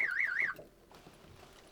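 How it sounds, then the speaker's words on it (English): A Clifford alarm fitted to a Lotus Exige goes off with a loud, close warbling siren that sweeps up and down. It cuts out after about half a second, leaving faint background noise. "the alarm's going off"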